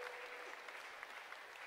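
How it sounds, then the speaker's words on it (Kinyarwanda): A church congregation applauds a girl, a quiet, distant patter of many hands clapping steadily through the short moment. "muhe Imana amashyi ku uwo mukobwa"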